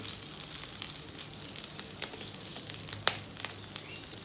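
Hot oil sizzles steadily in a frying pan after fish has been fried, a soft continuous crackle with occasional louder pops and spits.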